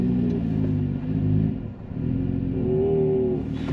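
A car switched into sport mode pulls away and accelerates, its engine note rising and falling in a steady close rumble with a climbing rev tone near the end, no talking.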